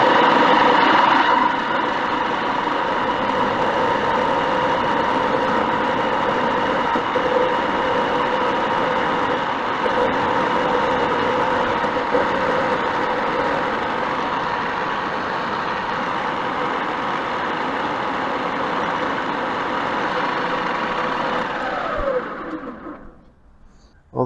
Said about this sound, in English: Today we're going to mill this way.